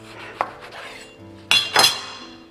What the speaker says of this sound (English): Cut it in half here.